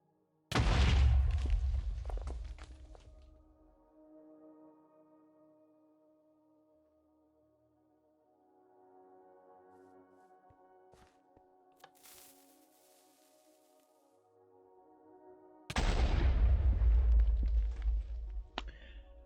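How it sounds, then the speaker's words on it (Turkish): TNT blowing up in the video game Minecraft: two loud, close booming blasts with rumbling decay, separated by a quiet stretch of faint tones and crackle. "TNT'yi patlatalım."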